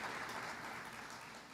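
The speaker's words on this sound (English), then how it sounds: "let's applaud her." An audience breaks into a short burst of steady, dense clapping that carries at an even level for a moment without a pause.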